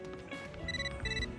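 A short chiming phone mail notification tone from the video game Catherine: Full Body, two quick bright electronic ring bursts, fairly soft.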